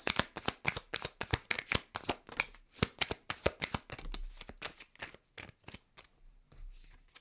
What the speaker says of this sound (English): This is a lot of cards.